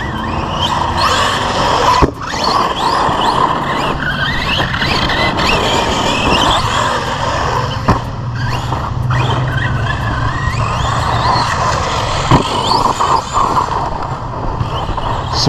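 An Arrma Kraton 4S RC basher car drives hard on a dusty surface with a steady motor whine and tire scrabble, broken by sharp skids and bumps at intervals, fairly loud and continuous with no talk.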